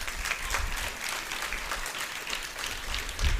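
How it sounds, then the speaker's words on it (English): Audience at a school student showcase applauds the young performers, a steady dense wash of many hands clapping throughout, fairly even in loudness with a slight swell at the end. "I think they deserve a round of applause for this"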